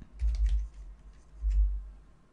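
Soft keystrokes on a computer keyboard, two short bursts of quiet typing close by with no talking.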